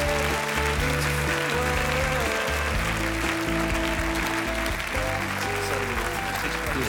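Television studio audience applauding after a singing battle on The Voice van Vlaanderen, a dense, continuous wash of clapping and cheering that holds steady throughout, with tonal music sounding underneath.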